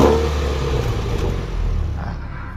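Mini Cooper John Cooper Works started from inside the cabin, a steady low engine rumble and whir settling into a loud idle that continues throughout, close and clear with no talking.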